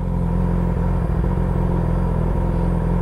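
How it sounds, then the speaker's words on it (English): Motorcycles, including an Aprilia and what look like a Honda CBR600RR and an R660, rumbling past as a steady loud engine drone with low clatter and no talk. "But what are these bikes?"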